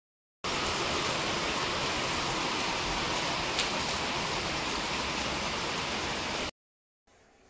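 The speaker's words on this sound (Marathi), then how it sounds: "आवाज येत नसेल, पावसाचा जोर वाढत चाललाय." Heavy monsoon rain falling outside a house, a dense, loud, steady roar of downpour that cuts off abruptly before a quieter tail.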